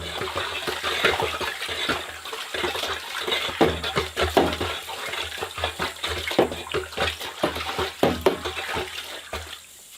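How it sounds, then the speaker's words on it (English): Liquid nettle fertiliser, dark brown, is stirred around in a container, giving a continuous sloshing and swirling of water with irregular splashy surges, steady and fairly close throughout with no talking. "So I'll give that a stir around."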